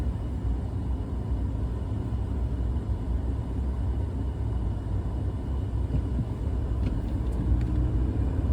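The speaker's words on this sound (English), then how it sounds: "Traffic moving along over there." Road traffic on Chicago's 290 expressway makes a steady, broad rumble from a moving car, with a few faint higher clicks near the end and no talk.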